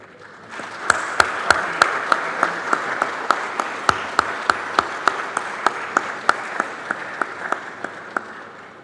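An audience at a Brazzaville Chamber of Commerce forum applauds the visiting Italian delegation, sustained steady clapping that swells in quickly and carries on evenly for several seconds, with sharp individual claps standing out near the microphone.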